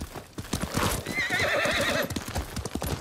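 Horse in the samurai video game Ghost of Tsushima: rapid rhythmic hoofbeats of a gallop run throughout, with a loud, wavering neigh rising over them midway, close and clear with no talk.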